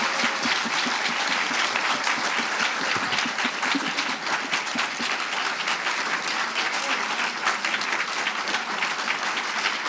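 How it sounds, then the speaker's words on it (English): Sustained applause from an audience at a film screening and panel discussion, dense steady clapping filling the room for the full stretch with faint voices mixed in. "Can we get a giant round of applause for everyone here?"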